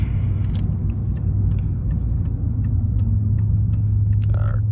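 Loud exhaust of a muffler-deleted Pontiac Grand Prix GT, a steady deep droning rumble while cruising, with small crackles and ticks over the constant low hum.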